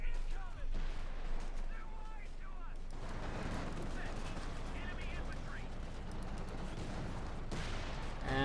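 Tank guns fire and shells strike a Panther in a Company of Heroes 2 match, a dense stretch of distant booms and impacts over continuous battle noise, with a commentator speaking over it.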